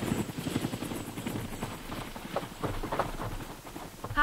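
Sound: damaged helicopter landing at airport, audio drama effect

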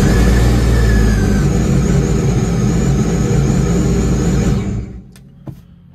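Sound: giveaway boat engine starting up and running

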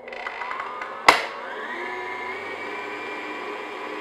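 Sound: stand mixer with paddle attachment mixing dough

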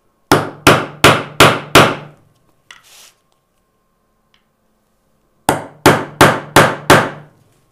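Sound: hammer driving a nail set to sink a nail head into wood

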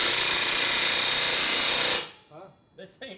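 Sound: power tool tightening a nut on a Harley panhead

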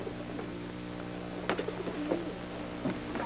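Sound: pigeons cooing

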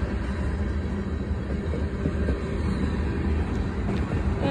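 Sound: CSX freight train passing railroad crossing

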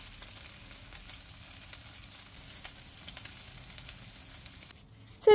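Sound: zucchini frying in a pan

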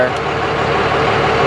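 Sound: Cummins diesel truck engine starting up

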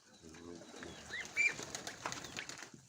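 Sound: Mykolaiv pigeons cooing and flapping

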